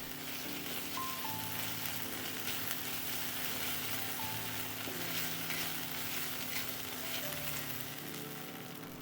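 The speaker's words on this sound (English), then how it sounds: "add 1/4 cup of Govinda Bhog rice and fry for 15 seconds" Govinda Bhog rice fries in a pan with oil and aromatics for a green mango and fish head curry, giving a steady, fairly quiet sizzle with faint stirring.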